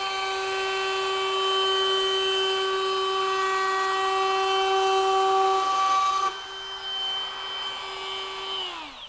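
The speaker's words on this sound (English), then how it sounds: "We're gonna run this without dust extraction first" A FLEX FX4221 24V cordless trim router cuts wood without dust extraction, producing a loud, steady high-pitched motor whine that holds for several seconds, roughens slightly as it bites, then winds down at the end.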